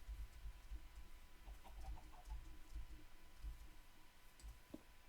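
Chickens in Minecraft Craftmine give soft, faint clucks, a short cluster near the middle and a lone one near the end, over low, quiet rumbling background noise.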